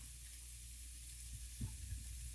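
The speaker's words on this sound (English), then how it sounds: "So now we can put a little bit of oil in there and heat up my sausage." Sausage heating in oil in a pan, a steady low sizzle with faint stirring sounds, close and quiet throughout.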